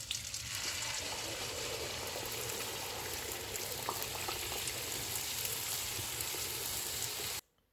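Puri bread frying in hot oil, a loud continuous sizzle and bubbling that holds steady for several seconds, then cuts off abruptly at the end.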